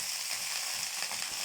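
Finely chopped fenugreek leaves hit hot oil in a pan, a dense, even hiss of frying held close and loud for a moment, with no voices.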